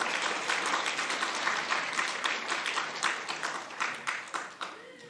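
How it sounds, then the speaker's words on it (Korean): A church congregation claps together in a dense burst of applause during a Sunday service, holding steady for several seconds before tapering off. "여러분 박수 한번 쳐주세요"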